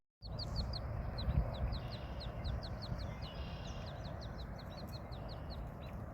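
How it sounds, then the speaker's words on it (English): A duckling calls outdoors with a rapid series of high, evenly spaced peeps running steadily over a constant broadband rushing background, close and unaccompanied by speech. "Little duckling."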